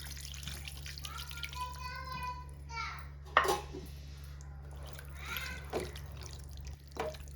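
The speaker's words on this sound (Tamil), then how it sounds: "இப்போ வந்து 1 டம்ளர் அளவுக்கு நம்ம வந்து தண்ணி ஊற்றிக்கலாம்" Water poured from a tumbler into a pan of chicken curry in a home kitchen, a splashing pour with faint trickling and a few brief clatters over a steady low hum.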